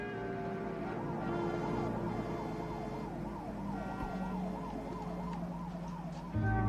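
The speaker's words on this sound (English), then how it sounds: "the sounds, can't you, of the streets and the sirens" A wailing emergency siren rises and falls repeatedly over a low hum of city street traffic, moderately distant and continuous, with a deeper rumble entering at the very end.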